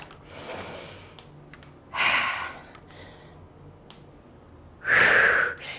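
Heavy breaths in and out during an at-home dumbbell workout, three distinct breathy bursts spaced a few seconds apart over quiet background, close and loud, with no talking.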